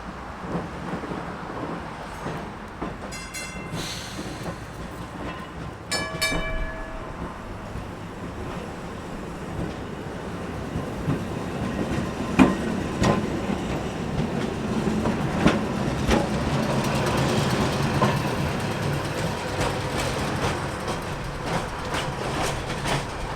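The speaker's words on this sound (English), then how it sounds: "One of my last catches of the day on MOTAT's tram line was number 11 leaving the Great North Road station" MOTAT tram number 11 pulls away from Great North Road station on the museum tramway, a low rumble with scattered clicks and squeals of wheels on rail that builds gradually as it moves off.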